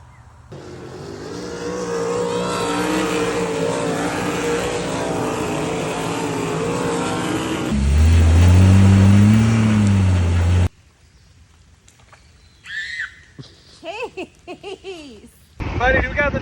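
A Jeep with the top off rolls along with steady engine and wind rumble, then a louder low gust buffets the open cabin before cutting out; brief excited voices follow, and the engine noise returns at the end.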